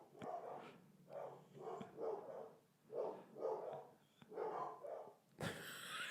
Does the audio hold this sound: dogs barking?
yes